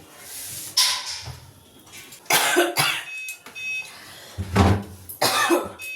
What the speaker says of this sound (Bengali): বলতে গেলে একটু কাশি পেয়ে যাচ্ছে